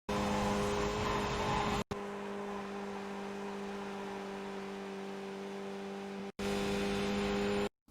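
Skip Barber race car in iRacing at Canadian Tire Motorsports Park, a steady buzzing engine drone held at high revs, cut by two abrupt breaks with a short pause between, loud and close with no voices.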